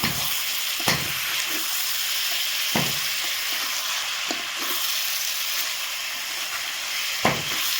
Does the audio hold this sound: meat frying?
yes